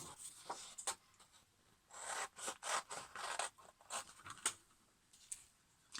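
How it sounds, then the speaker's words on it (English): Close, irregular snips and rasps of scissors cutting through paper, short bursts separated by brief pauses, with no talking. "So using some scissors you want to cut that out first of all."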